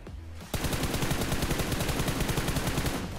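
Loud, rapid automatic gunfire in the mobile shooter BGMI breaks in after a brief quiet moment and rattles on continuously in a fast, even stream of close shots.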